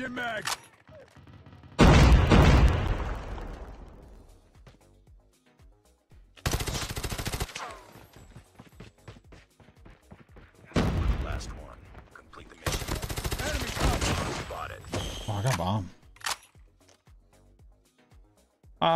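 Loud bursts of automatic gunfire from a Call of Duty Mobile match come in several long volleys separated by quieter gaps. Some shots sound near and some farther off.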